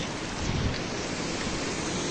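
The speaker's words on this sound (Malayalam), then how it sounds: "ഇവിടെ മതിയായ വെള്ളച്ചാട്ടം രൂപപ്പെട്ടിരിക്കുകയാണ്" Waterfall formed after a landslide near Pallivasal in Munnar, a steady, loud broadband roar of rushing water with wind buffeting, continuous throughout and no voices.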